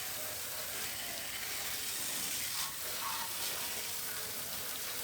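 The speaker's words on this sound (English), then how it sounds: "I just use a water hose for this." A water hose sprays a car being washed, a faint, even hiss of water spray that runs without a break at a moderate distance, with no talking.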